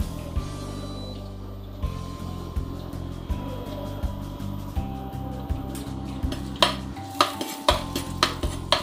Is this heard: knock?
no